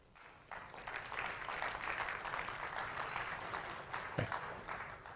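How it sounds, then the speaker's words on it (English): Audience applause at a tourism destination marketing forum in Chiang Mai, a steady wash of many hands clapping that starts after a quiet moment and holds for several seconds, moderately distant in a large hall. "a big round of applause for Mr."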